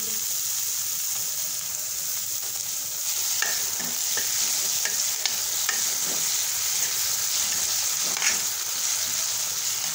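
Paneer bhurji sizzles and fries in a pan while being stirred, a constant close hiss broken by soft scraping and clinking of the spoon against the pan, with no talking.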